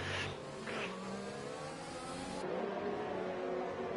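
In a Formula-style racing video game at the Brazilian GP, a train of race cars runs nose to tail, their engines giving a steady high-pitched drone with revving shifts and no talk over it.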